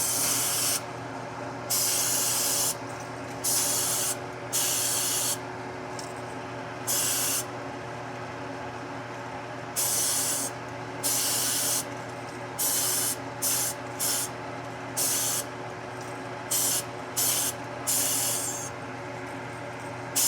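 Chrome spray is applied to a fishing lure in a series of short, sharp hissing bursts, some quick and some held longer, over a steady background extractor fan hum.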